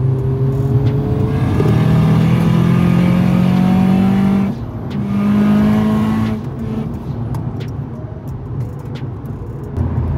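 A 600 hp big-turbo front-wheel-drive VW Scirocco with a stage-three DSG gearbox and black mechatronic unit accelerates hard and loud, its engine note climbing through two quick gear shifts before easing into a lower drone.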